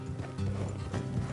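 Horse hooves clip-clop at a steady trot in a console video game, close and fairly loud with a faint mechanical rattle of tack alongside, no voices.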